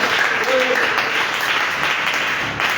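A church congregation clapping and cheering during a sermon at a tabernacle, a loud, sustained wash of applause from a large crowd, with voices mixed in throughout.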